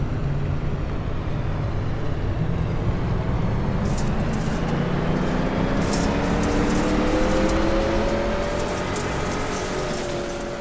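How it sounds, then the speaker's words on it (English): Dirt race cars in a racing video game circling Eldora, a steady loud engine rumble with rising whine lines, continuous and alone with no talking. "You can almost hear the rumble of the engines."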